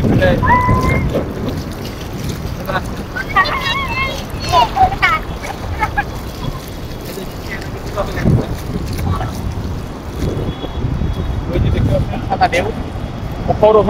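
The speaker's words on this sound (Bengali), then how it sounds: "ঢেউ পড়তেছে, লক্ষ লক্ষ ঢেউ পড়তেছে, ঢেউর উপর ঢেউ।" Sea waves breaking on the beach at Cox's Bazar make a steady broadband wash of surf, mixed with wind buffeting the microphone, while people talk over it throughout.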